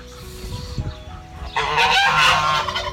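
Chickens in a backyard flock cackle and squawk close by in a loud, busy burst that rises after a quieter start with low rustling.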